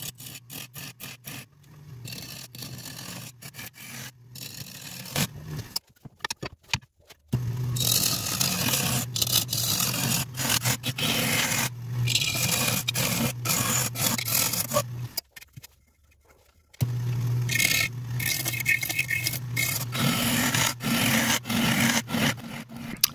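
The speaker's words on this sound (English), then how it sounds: "As I started hollowing, you can see the attempted coring process here" Sissoo wood bowl being hollowed on a lathe, a steady rough scraping and rasping of the tool cutting wood in long close bursts, broken by short pauses, with no talk.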